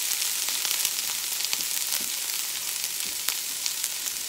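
Zucchini sizzles and crackles steadily in hot olive oil in a pan, a loud, continuous hiss dotted with small pops, with no talking over it.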